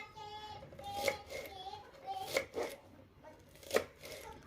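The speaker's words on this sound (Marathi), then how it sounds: "देठ सोलून झाली की कट करून घेऊयात।" Peeled taro (colocasia) stems being chopped on a board for a Marathi-style vegetable dish, three distinct knife strikes spaced about a second apart, with faint light rustling in between.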